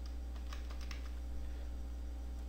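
Soft, close keyboard typing, a quick burst of keystrokes on a computer keyboard while coding in Visual Studio, set over a constant low electrical hum, with no voices.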